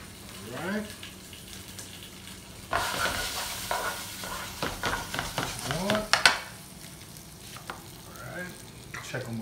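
Green beans sauté in a hot pan with a seasoning blend, giving a crackling sizzle that swells into a louder, busier frying burst midway, broken by scrapes and stirring clatter.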